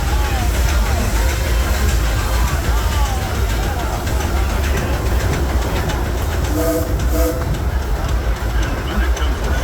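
The Disneyland Railroad train, pulled by the Ernest S. Marsh locomotive, rumbles steadily along the rails with a continuous low roar and faint rhythmic clatter, a voice talking over it.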